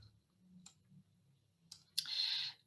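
A computer mouse clicks on Jamboard in a web browser: a few quiet, isolated clicks spaced over a couple of seconds in an otherwise hushed room, with no talking.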